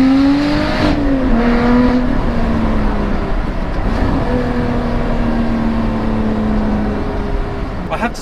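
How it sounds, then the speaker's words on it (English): A car revs hard through its gears, then the engine note drops with each downshift in rising and falling whines, loud and close with road noise beneath. "I have to say, I love a downshift."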